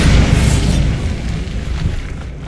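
A Bombarda spell explodes in Hogwarts Legacy as one loud, close blast with a heavy low boom that rolls on into a long, rumbling decay.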